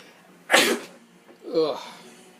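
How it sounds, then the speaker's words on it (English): A single close, sharp sneeze bursts out, followed a moment later by a softer voiced groan. "I feel a sneeze coming."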